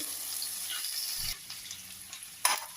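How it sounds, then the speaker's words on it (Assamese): Onions and bay leaves frying in a pan for mutton curry give a steady close sizzle that drops off briefly midway, with a sharp clatter near the end. "এতিয়া মই এইখিনি অলপ সময় ভাজিম, অলপমান ৰঙচুৱা পৰালৈকে ভাজিম দেই"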